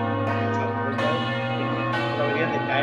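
Church bells rung by hand in the Ribera del Duero, Spain, sounding several loud strikes about a second apart, each ringing on over the sustained hum of the previous ones, with no talk.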